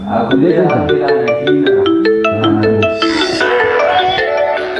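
Bright electronic ringtone melody from a mobile phone plays as a repeating sequence of clear tones for several seconds in an indoor drama scene.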